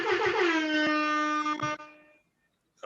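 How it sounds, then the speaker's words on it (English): A loud, sustained air horn blast lasting nearly two seconds, with a couple of brief stutters, followed by silence and a short burst at the end. "Guy hit you with the air horns."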